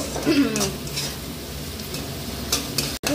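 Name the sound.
stirring chicken into frying spice paste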